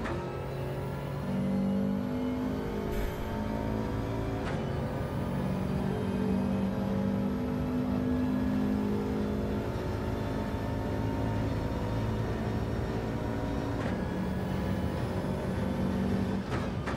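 Racing car engine in a racing video game on the Deep Forest track, a loud sustained whine that climbs in pitch through gear changes across the stretch, with no talk over it.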